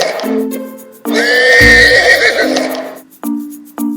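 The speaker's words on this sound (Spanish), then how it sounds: "Caballo." A horse neighs loudly and clearly in a long whinny, alone, with no talk around it.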